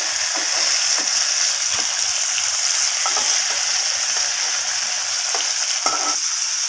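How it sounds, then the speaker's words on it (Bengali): Pieces of bitter gourd frying in hot oil that was just used for okra, a loud, steady hiss and crackle running throughout with a few faint spatula stirs. "এরপর ওই একই তেলে আমি কেটে রাখা উচ্ছেগুলোকে দিয়ে দিলাম।"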